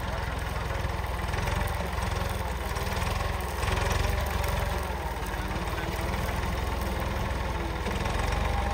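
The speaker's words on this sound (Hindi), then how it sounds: "भाई मुबशर ट्रैक्टर चला के आ चुके हैं, अभी मैं बैठूंगा" A tractor engine idles close by, giving a loud, steady, rumbling drone that runs without a break from start to finish.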